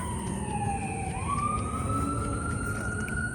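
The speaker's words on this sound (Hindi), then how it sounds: "आवाज़ आ रही है ना, एम्बुलेंस या पुलिस की गाड़ी होगी।" An ambulance or police siren wails from a distance, its pitch sliding down and then rising again over a steady rumble of road traffic.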